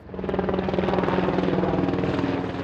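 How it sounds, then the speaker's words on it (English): Patrol helicopters fly over the San Ysidro border crossing, rotor thumping loud and near in a fast steady pulse throughout, with no voices. "Helicopters patrol overhead."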